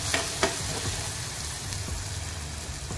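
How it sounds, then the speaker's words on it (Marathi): Vegetable sautéing in a pan with asafoetida and turmeric gives a steady close sizzle with a few soft stirring scrapes near the start. "परतून घेऊया"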